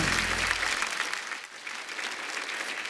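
A comedy show audience bursts into loud, sustained applause that gradually thins and tapers off, with a few voices mixed into the clapping.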